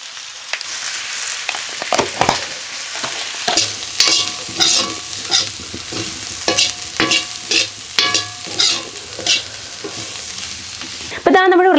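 Potato thoran stir-fries in hot oil with salt and turmeric, as a spatula scrapes and tosses the pieces in repeated uneven strokes over a steady sizzle, loud and close, with no voices.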